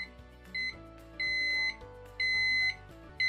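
An ifm signal lamp buzzer beeps in three sustained high-pitched tones of increasing length, sounding over a soft background of low music.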